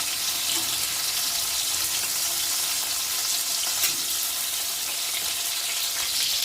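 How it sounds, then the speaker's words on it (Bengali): Prawns frying in hot oil in a pan, a loud dense crackling sizzle that holds steady throughout, heard close and alone, with no voices. "মাছটা আমি উল্টে দিচ্ছি এক পাশ হয়ে গেছে আর এক পাশ উল্টে দিচ্ছি হালকা করে লাল লাল করে ভেজে নেব"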